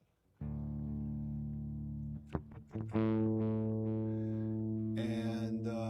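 A sustained electric guitar tone through a BOSS ME-25 multi-effects unit with reverb rings out, briefly interrupted by a few sharp plucks, then swells into a brighter, distorted chord.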